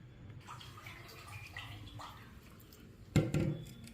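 Poha (flattened rice) being washed in water gives faint, soft swishing and dripping, then a sudden louder splash near the end.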